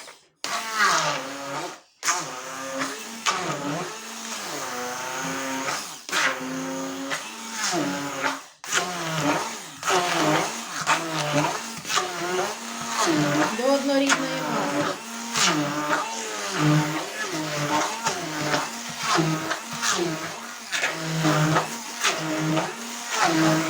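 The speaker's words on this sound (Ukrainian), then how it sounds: "І блендером збиваємо його." A blender whirs loudly in repeated pulses, its motor pitch wavering as it churns a thick cottage cheese, egg and vanilla sugar filling, briefly stopping and restarting.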